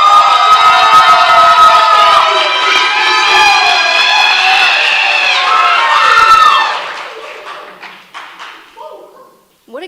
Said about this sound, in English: What a great crowd, am I right?